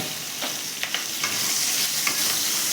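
Chopped tomato, whole spices and a split green chilli stir-fry in a pan, giving a steady close sizzle broken by a few sharp scrapes and clicks of stirring.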